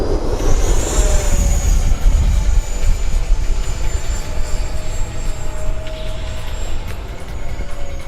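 A brand new scale RC F-16 model jet passes overhead with a steady, loud turbine whine and broad roar, holding a sustained high tone throughout a tail slide and roll, with wind buffeting underneath.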